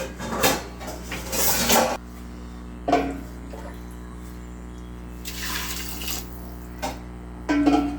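Water is poured in a few short bursts into a pot, splashing between pauses, with a faint steady hum underneath.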